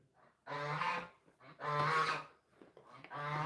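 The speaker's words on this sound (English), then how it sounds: "I hear the geese. I hear the geese out there." Geese honk loudly in a series of harsh, nasal calls, several blasts in quick succession with brief gaps between them.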